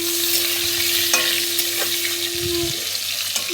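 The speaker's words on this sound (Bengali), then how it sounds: "এবার দিয়ে দেবো পটলটা ভালোভাবে ভেজে নেব।" Pointed gourd (potol) frying in hot mustard oil with salt and turmeric, a steady bright sizzle with a few stirring scrapes, close and continuous, no talk.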